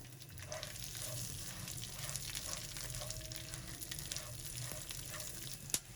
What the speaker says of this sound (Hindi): 30 ग्राम बादाम और 30 ग्राम चार मगज। इनको भी हम 1 मिनट तक फ्राई करेंगे।